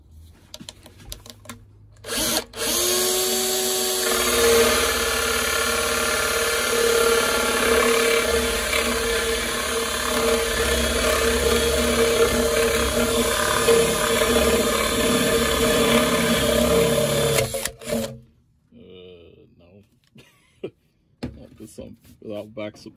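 A Parkside drill with a hole cutter bores through plywood, giving a loud, rattling grind for about fifteen seconds that stops sharply, followed by a few quieter knocks and handling sounds.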